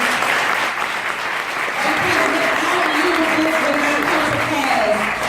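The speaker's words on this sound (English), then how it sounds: "stand to your feet really quickly. I want to, applaud you guys." Audience on its feet applauding at a main event, a loud, dense, continuous wash of clapping that holds steady throughout, with a voice faintly audible underneath.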